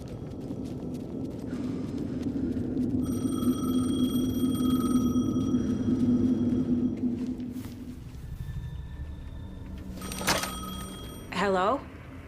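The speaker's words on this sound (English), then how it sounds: "The payphone was ringing." A payphone rings in the video game Alan Wake 2, a few bursts of electronic ringing standing out near the end over a dense, droning ambient bed.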